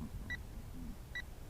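Two short, clear electronic beeps from an FMS T-28 Trojan 410mm RC warbird signalling a low battery, spaced under a second apart over steady outdoor background noise.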